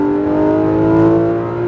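A Porsche 911 GT3 RS flat-six pulls hard out of a corner on a race track, a loud, steady, high-pitched engine note rising under full throttle, heard from inside the car with no talk.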